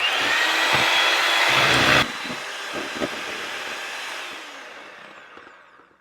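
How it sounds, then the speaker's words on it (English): Electric hand mixer whirring loudly in a bowl of cake batter for an apple cake, a steady high motor drone for two seconds that cuts off abruptly, followed by fading rattles and quiet clatter. "I find a hand mixer just fine. So it's going to get loud."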